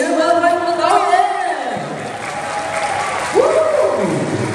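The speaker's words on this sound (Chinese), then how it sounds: "我们向以热烈的掌声欢迎我们的演员们，欢迎我们的导演。" A theatre crowd at a movie gala premiere applauds to welcome the actors and director, clapping layered with whoops and excited crowd voices, with a couple of rising-falling cheers standing out.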